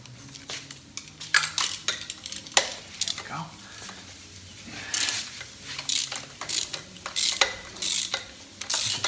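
Metal scraping and tapping on BMW N54 aluminum intake valves as carbon deposits are cleaned off, irregular short scratchy strokes and clinks up close, fairly quiet with faint background noise.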